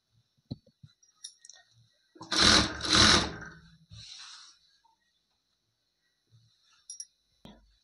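A sewing machine runs one short burst of stitching as the panels of an umbrella frock are joined, with soft clicks and fabric handling before and after in a quiet room.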